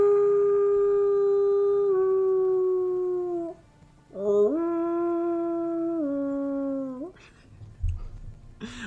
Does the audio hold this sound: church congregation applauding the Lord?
no